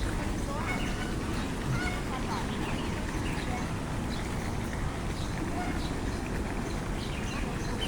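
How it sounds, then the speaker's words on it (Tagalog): Geese honk in Kowloon Park, Hong Kong, a busy chorus of calls spread through a noisy, crowded outdoor ambience, with people's voices chattering around them throughout. "Ang daming gansa."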